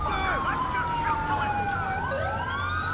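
In the GTA game with the LSPDFR police mod, a police motorcycle's siren wails and yelps nearby, sweeping up and down steadily over low engine rumble.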